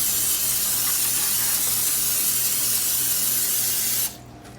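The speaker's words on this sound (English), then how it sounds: "I'm gonna spray this with some cooking spray" Butter-flavored cooking spray hissing from a can in one continuous close burst for about four seconds, then cutting off abruptly into quiet room tone.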